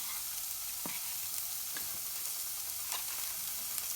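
Chopped onion sizzles steadily in a skillet, a soft continuous frying hiss with occasional faint stirring taps.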